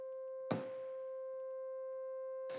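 A plain three-oscillator synth preset with no effects holds one steady sustained tone for about two seconds, starting with a soft attack and running evenly at moderate level, alone with no voices.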